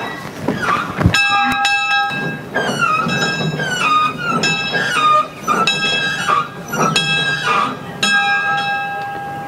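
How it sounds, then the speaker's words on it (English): A steam locomotive's brass bell is rung by hand in a transportation museum, with loud, close, clear metallic clangs repeating at an uneven pace and ringing out between strikes. "you can also visit the locomotive's cab and sit where the engineer and fireman used to sit and even ring the locomotive's bell"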